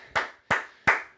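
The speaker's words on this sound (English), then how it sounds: "Clap it up" A single person claps three times in a slow, even rhythm, each crisp, close hand smack standing alone with brief silence between.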